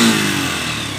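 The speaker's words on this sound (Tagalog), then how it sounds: "Ayun o, maandar na si YBR 125." A Yamaha YBR 125 motorcycle engine, running after conversion to a battery-operated Mio Sporty/Amore CDI, revs loudly and close up in a brief burst, then settles to a steady running drone.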